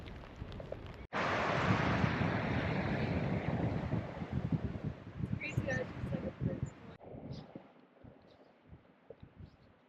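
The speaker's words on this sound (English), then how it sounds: "Beach isn't too bad, it's a little windy and rainy" Strong wind buffets the microphone on a windy, rainy beach in the Lofoten Islands of northern Norway, a loud rumbling roar that begins abruptly, gusts unevenly, then drops to a lighter, choppier blustering.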